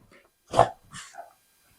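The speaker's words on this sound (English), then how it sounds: "puppy dog" A puppy gives one short, sharp bark followed by a softer yelp, close by in a quiet room during a yoga session, with silence around it.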